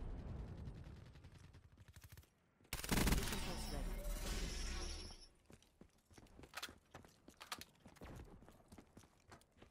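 Gunfire in the shooter video game Call of Duty: Black Ops, a loud sustained burst of rapid automatic fire followed by scattered sharp single shots, with a player's voice speaking faintly around it.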